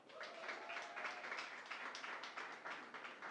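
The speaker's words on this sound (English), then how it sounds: "Let's give them a round of applause." An audience at a spirits and technology panel gives a round of applause, a brief patter of scattered clapping that sounds fairly distant and faint.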